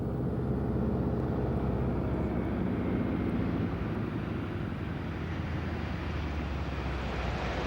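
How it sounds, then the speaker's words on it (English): A 1940s floatplane's 450 horsepower radial engine roars in a steady, loud, low drone, heard from inside or close by with wind rush and no voices. "The roar of the 450 horsepower radial engine harks back to a distant time when flying was pure romance"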